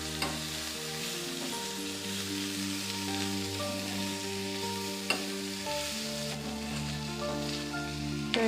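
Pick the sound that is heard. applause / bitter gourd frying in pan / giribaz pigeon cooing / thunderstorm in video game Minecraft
bitter gourd frying in pan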